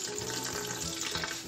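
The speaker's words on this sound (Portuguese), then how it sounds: "vou colocar também uma caixinha de água de coco de 200" Coconut water poured from a 200 ml carton into a lemon juice mix, a continuous splashing, gurgling liquid stream, close and fairly loud with no talk.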